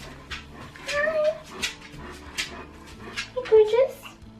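A dog whimpers and yips in short, high whines close by, several soft cries spread out with light vocal sounds between them.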